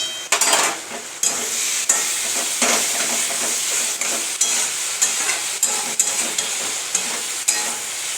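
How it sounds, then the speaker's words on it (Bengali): Spice paste for a fish curry sautéing in a pan, with a loud, steady, hissing sizzle and regular scraping strokes of a spoon against the pan, close up and without speech. "দেখতেই পাচ্ছ মাছের ঝোলের মশলাটা কতটা কষাচ্ছি।"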